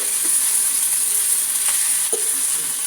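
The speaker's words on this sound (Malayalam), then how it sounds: "കറിവേപ്പില ഇട്ടതിന് ശേഷം നന്നായിട്ടൊന്ന് ഇളക്കി കൊടുക്കണം" Curry leaves sizzle in a hot pan while being stirred, a constant bright hiss with a few faint clicks and scrapes from the spoon.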